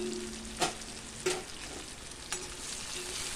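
Ingredients for a pepper fry, with chopped coriander and salt, frying in a pan. A soft, steady sizzle runs throughout, and a few sharp stirring scrapes land about a second apart.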